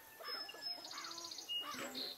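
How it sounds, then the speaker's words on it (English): Birds in a wooded area near the start of spring give faint, high chirps and short warbling calls, distant and soft over quiet outdoor ambience, with no talking. "I hear a big flock of crows over there"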